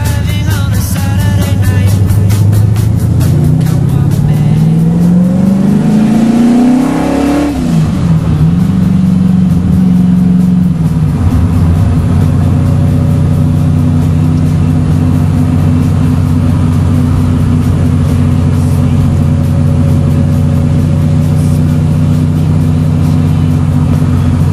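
A Shadow Mauve 350 LJ Corona car lapping the Bathurst road circuit in 2009, its engine loud and close throughout, revving up through the gears with a rising pitch, dropping sharply after a shift, then holding a steady drone.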